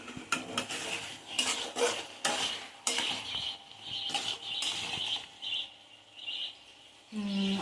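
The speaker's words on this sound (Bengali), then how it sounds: "আমি এবার এটাকে নেড়ে চেড়ে দেখে নেব এটা সিদ্ধ হয়েছে কিনা" A fish roe and boiled potato curry is stirred in a metal pan, with a quick run of scraping, clinking utensil strokes against the pan over a soft simmering sizzle and a brief tonal note near the end.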